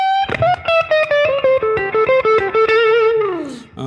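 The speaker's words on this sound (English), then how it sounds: "I love doing that little move right there in the 5th position minor pentatonic scale." Electric guitar plays a blues lick in the 5th position minor pentatonic scale, a run of evenly picked notes stepping downward, then a long sustained note that slides down and fades.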